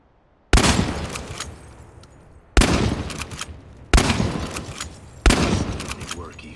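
Four loud, booming shotgun blasts in Chernobylite, each a sharp crack followed by a decaying tail, spaced roughly a second or more apart after a brief quiet start.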